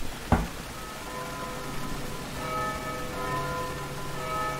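A church bell tolls once with a sharp struck onset and long ringing hum, set in the underground city of the Vagrant Story game, followed by a sustained tonal drone and faint ambient background, no voices.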